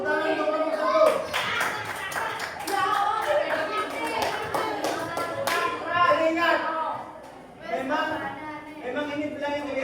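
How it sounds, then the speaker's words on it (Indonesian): Seventh-grade students in a classroom at SMPN 23 Malang applaud group 1, a burst of clapping running under overlapping children's voices and chatter throughout. "Tepuk tangan untuk kelompok 1."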